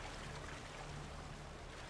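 Water in Uncharted 3 sloshes and trickles steadily as the character wades up out of it, a soft continuous splashing wash with a low hum underneath and no voices.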